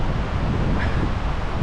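Strong wind buffets across an open, empty beach on Hinchinbrook Island, a loud continuous roar of gusts and microphone rumble with faint surf underneath and no voices.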